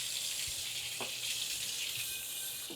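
A little water poured into the liquid of a pork belly dish as it cooks, a short soft trickle and splash with faint sizzling beneath, near and fairly quiet, no voices.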